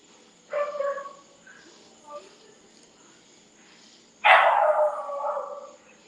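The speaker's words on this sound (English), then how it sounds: "I'm sitting outside and somebody is walking a dog" A dog barks outdoors while being walked past, a couple of moderately loud barks with a quieter pause between them, set against faint background hum.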